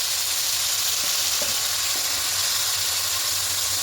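Mustard paste frying in a pan for Bengali mustard hilsa, a steady loud sizzle running throughout with a few faint clinks, no voices.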